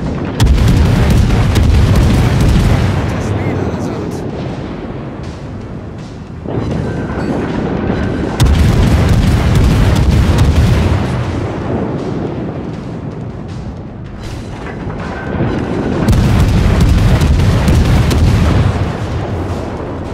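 Warship cannons firing in World of Warships roar in three long, heavy salvos, each a loud booming blast that rumbles for several seconds before fading, with no talk over them.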